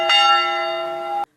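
One resonant church bell strike rings out with rich sustained overtones, then cuts off abruptly after about a second.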